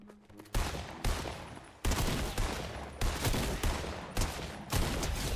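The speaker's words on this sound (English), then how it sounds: "Wait, there's an assault rifle right there." Assault rifle fire in the Fortnite video game: several loud, sharp bursts of shots in quick succession, each followed by a brief tail, repeating across the whole stretch with no talk.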